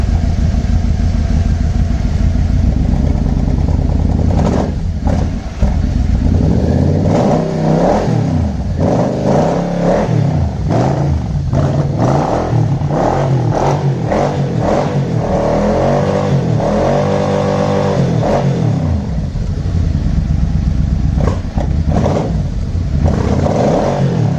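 A 1996 Yamaha Royal Star Tour Classic motorcycle, a garage find running on bad fuel, idles loudly and steadily at close range, with repeated throttle revs rising and falling and no talking.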